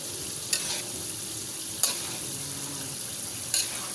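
Chicken frying in hot cooking oil, a steady quiet sizzle broken by three sharp crackling pops spaced across the moment, with no voices.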